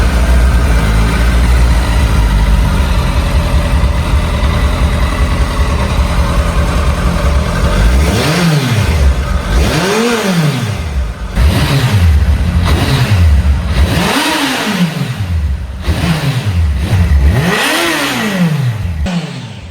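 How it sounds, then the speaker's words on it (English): A restored Kawasaki ZX-14R motorcycle idles steadily, then its engine is blipped through about six sharp revs that rise and fall in quick succession, loud and close. "this bike now starts and runs perfectly"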